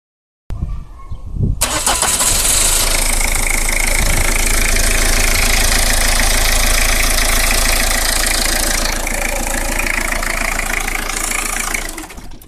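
A Citroen/Peugeot 1.9 diesel DW8 engine cranks briefly, then fires and settles into a loud, steady, clattering idle close by that runs for about ten seconds without speech.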